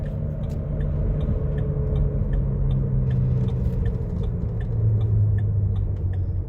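2010 Ford Explorer driving on the road after an ignition coil replacement, a steady low engine and road rumble inside the cabin with faint rhythmic ticking over it.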